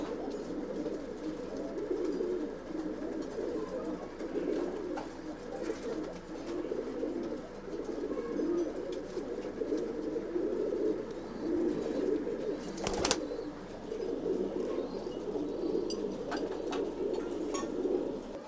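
Old-bloodline racing pigeons in a Bangalore loft coo softly and continuously in overlapping murmurs, with one sharp click near the end breaking the steady low burble.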